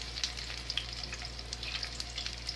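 Garlic sizzling and frying in hot oil in a pan, a steady crackle with scattered sharper pops, fairly quiet and close, with no talking.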